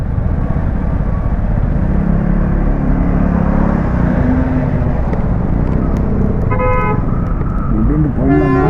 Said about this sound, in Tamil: டிராஃபிக் ஆகிட்டு இருக்குது.